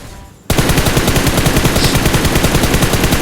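Loud, rapid automatic gunfire in the video game PUBG bursts in after a brief quiet moment and hammers on as a continuous rattling stream of shots until the end.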